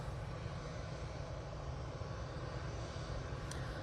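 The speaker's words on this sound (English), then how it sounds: "So I got 737 MAX 8 for Ryanair coming in from Faro." Ryanair Boeing 737 MAX 8 arriving at Manchester Airport from Faro, a continuous distant engine rumble with strong low-end drone, steady and unbroken throughout.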